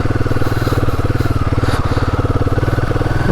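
A motorcycle crawling in first gear along a rough, difficult street near Kalasa, its engine thumping in a close, steady low rhythm throughout.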